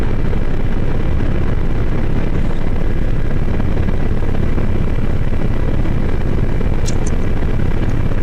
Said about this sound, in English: the Mi-24 is moving into position off my rear left side